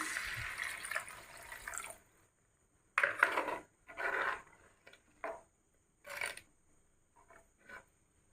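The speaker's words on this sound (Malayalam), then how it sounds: "വഴറ്റിയ കൂട്ടിലേക്ക് വെള്ളം ചേർത്ത് കൊടുക്കാം" Water splashes and gurgles into sautéed masala in a pan for fish curry, in a few separate pours, each lasting about a second, with quiet pauses between them.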